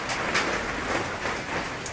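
Steady rain pours down close by, a constant hiss of drops hitting surfaces with no voices.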